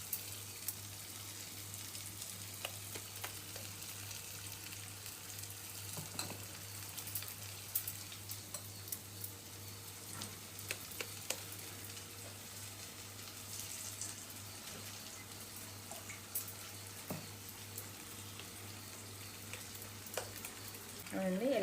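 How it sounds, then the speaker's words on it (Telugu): Coconut burelu fry in hot oil with a soft, continuous crackling sizzle and occasional pops, fairly faint and steady throughout over a low constant hum. "ఇలా బూరెలు వేయాలి. ఇలాగ ఒక్కొక్కటి బూరెలు వేసుకోవాలి. మంచిగా ఫ్రై అయ్యాక"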